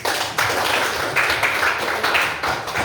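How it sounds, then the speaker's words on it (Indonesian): A classroom audience claps in a steady, dense patter of hands, fairly close and loud, with no voices over it for a few seconds. "Oke, kita beri aplaus."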